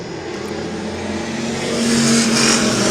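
Stock cars race at Twin State Speedway in Claremont, New Hampshire, one with a 305 engine; loud engines roar and build as cars sweep past close by.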